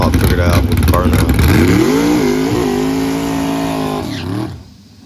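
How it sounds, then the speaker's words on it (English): A drag race car on line lock does a burnout, its engine holding a loud, sustained high-revving roar with shifting pitch before dropping off sharply near the end. "he's starting to get the line lock figured out with the burnout."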